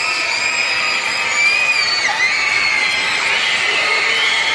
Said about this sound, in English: Crowd got really vocal there at the prospect of free cheeseburgers